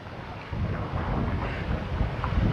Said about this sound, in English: I hope the mic isn't picking up a lot of the wind noise.